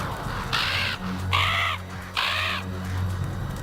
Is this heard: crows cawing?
yes